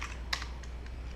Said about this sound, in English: I can do whatever with the keyboard.